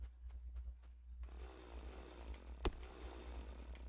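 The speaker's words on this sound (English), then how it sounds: "Our mighty, mighty chainsaw, if it would ever do that. Let's cut a path here for us." Chainsaw clearing trees in modded Factorio, a gritty buzzing that starts about a second in and runs steady, with one sharp crack partway through over a low persistent hum, no talking.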